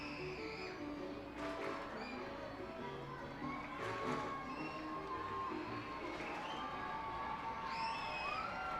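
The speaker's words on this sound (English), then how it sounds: "The fans are cheering on Matt Kroon here." Baseball crowd at a Reading Fightin Phils minor league game cheers and shouts steadily, with children's high whoops rising above the roar and a voice talking faintly underneath.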